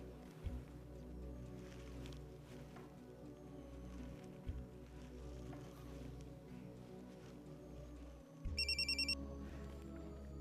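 A mobile phone rings during a call in a crime investigation drama, a short burst of bright pulsed ringing near the end, over a steady low hum.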